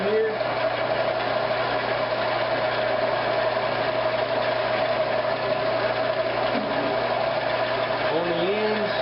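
A wood lathe spins a roller pin at around 800 RPM with a constant droning hum and vibration, close and steady, while someone talks over it.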